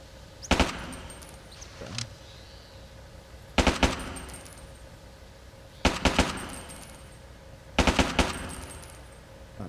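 Gunfire in the original Ghost Recon video game comes in four separate short automatic bursts spaced a couple of seconds apart, each loud and sharp against a quiet background.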